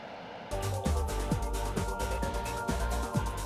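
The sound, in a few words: JSF-35 fighter jet aircraft engine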